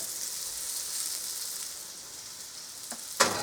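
Liver and bacon frying in a pan give a steady, close sizzle with a bright crackling hiss throughout, and a couple of small clinks near the end.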